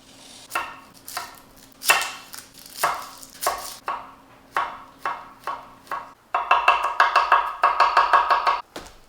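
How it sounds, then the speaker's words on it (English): Knife chopping garlic, shallots and mushrooms on a cutting board for beef Wellington: a steady series of sharp, close taps, slow and spaced at first, then quickening into a dense burst of rapid chops near the end, with no talking. "We're going to cut up 3 cloves of garlic and 2 shallots, and we're going to mix that in with a bunch of diced mushrooms."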